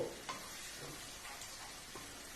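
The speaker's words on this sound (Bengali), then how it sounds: "যে সমস্ত গুঁড়ো মশলাগুলো রেখেছিলাম সেগুলো আমি দিয়ে দিলাম আর সাথে টক দইটাও দিয়ে দিলাম মশলাগুলোকে খুব ভালো করে কষবো" Ground spices and sour yogurt fry in a pan for chicken biryani, a soft continuous sizzle with occasional stirring scrapes, quiet and steady, no voices.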